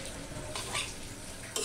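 Chopped onions go into boiled goat tripe frying in a pan, a faint, soft sizzle with a couple of brief louder bursts as the onions hit the hot surface.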